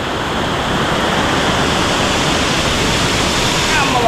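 Roaring waterfall at Kaasipatnam near Araku Ghat road, a loud continuous broadband rush of falling water filling the whole clip.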